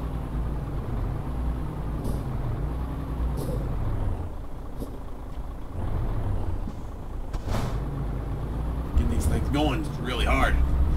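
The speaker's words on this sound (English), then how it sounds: "All that noise made me think I hit something. It was just my brakes." Air brakes on an 18-wheeler in Euro Truck Simulator 2 hiss in short bursts over a constant engine drone, with a person talking throughout.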